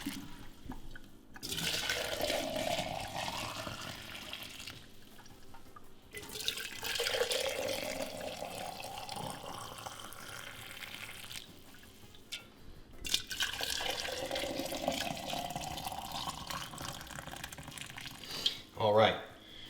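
Hot bone broth is poured from a pot into jars sitting in a sink, in several long gurgling pours separated by short pauses, with a clink near the end.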